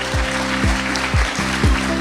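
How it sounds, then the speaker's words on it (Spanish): Audience applause at a lecture event presenting a talk on populism, a dense, steady wash of clapping from a crowd, with regular low thumps pulsing underneath throughout. "Pido un aplauso para ellos"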